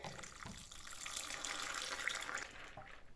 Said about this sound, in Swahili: Alafu niteka maji.